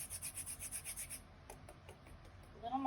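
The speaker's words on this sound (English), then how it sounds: "to put a tiny bit of lemon zest on top of it" Lemon zest grated on a kitchen grater: quiet, rapid, rhythmic scraping strokes, followed by softer intermittent scratches.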